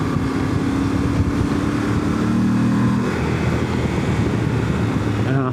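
A 2025 Yamaha Tenere 700 adventure bike with an ECU flash, stock exhaust and airbox, its engine droning steadily and loudly throughout, close and continuous with no clear breaks.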